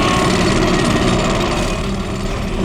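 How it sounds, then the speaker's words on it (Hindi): Jackhammer pounding at metro construction work outside a house, a loud, continuous rapid hammering with engine-like roar and no pauses. "तुम्हारे घर के बाहर मेट्रो कंस्ट्रक्शन के काम चलने की आवाज और ट्रैफिक"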